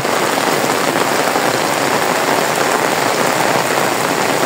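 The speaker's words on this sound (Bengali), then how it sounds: "বৃষ্টি পড়তেছে" Heavy rain pouring down outdoors, a loud, dense, unbroken hiss of drops striking surfaces, steady from start to finish with no voices.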